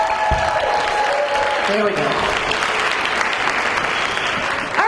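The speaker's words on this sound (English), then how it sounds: "So, yeah, let's cheer." An audience at an Ignite Denver event applauds and cheers in a loud, sustained burst that fills the room, with a voice speaking briefly through it.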